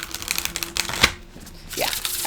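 Large cards from the Many Queens tarot deck are shuffled by hand, making a quick run of crisp, papery riffling clicks and flicks at close range, with a brief lull partway through.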